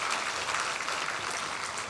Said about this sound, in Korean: 우리 축복의 박수를 보내주십시다.